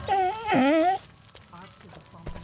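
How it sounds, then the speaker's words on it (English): A dog whimpers and whines in the video game Arx Fatalis, wavering high-pitched cries followed by softer fainter whimpers with quiet background ambience. "That's a dog."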